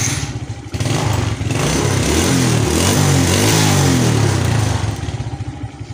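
A Suzuki Smash motorcycle engine starts up close and loud, settling into a steady idle with brief revs, its throbbing single-cylinder putter running alone without talk.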